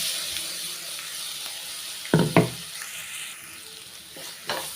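Ground capsicum paste, just added after curry leaves, stirred into a sizzling pan for capsicum chitranna; a steady hiss runs throughout, with a couple of sharp spoon scrapes in the middle and another near the end.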